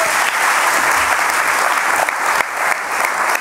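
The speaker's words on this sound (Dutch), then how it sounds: "En het applaus is denk ik ook voor Anne van Maurik, die haar rol speelde." Theatre audience applauding after a performance, dense sustained clapping from a full room, loud and even throughout.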